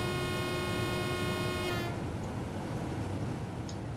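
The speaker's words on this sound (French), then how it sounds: "Je fais un petit coup de klaxon." Train horn in Train Simulator 2017 on a Lübeck to Hamburg route, one steady tonal toot lasting about two seconds before cutting off to leave the low rumble of the moving train.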